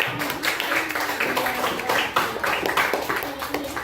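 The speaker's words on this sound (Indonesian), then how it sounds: "Tepuk tangan dong" Classroom of young pupils clapping hands in a short, uneven burst of claps close by, with some voices mixed in.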